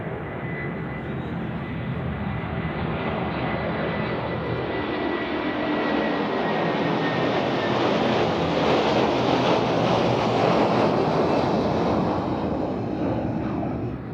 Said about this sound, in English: Well, and I guess this aircraft is right now already in the sun.